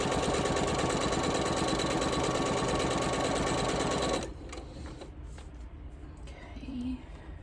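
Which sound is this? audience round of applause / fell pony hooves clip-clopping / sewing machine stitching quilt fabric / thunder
sewing machine stitching quilt fabric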